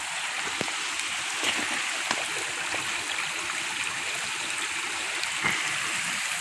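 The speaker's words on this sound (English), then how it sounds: "So I'm going to rinse it off with the water." Water runs over a dirt-covered rock in a creek at Ogden waterfall canyon, a steady close rushing wash with faint splashes and no talking.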